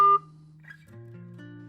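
Electronic phone button beeps as the end key is pressed, with a sharp loud tone at the start followed by quieter sustained tones, close and clean with no talking.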